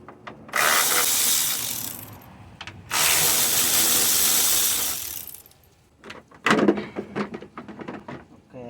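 A ratchet clicks rapidly through two long bursts, then a few shorter spurts, close by, while loosening 10mm fan bolts on a Honda Accord.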